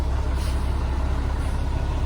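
A garbage truck rolls by on a New Orleans street at night, its heavy engine making a steady, loud low rumble with broadband road and air hiss that holds constant throughout.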